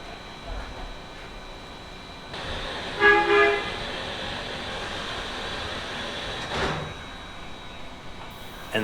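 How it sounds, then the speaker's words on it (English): The Polar Express excursion train at Frostburg, Maryland sounds a short whistle blast near the middle of the clip as it signals departure. The whistle rises over a low station hum and distant crowd murmur. "families wait for that whistle signaling departure"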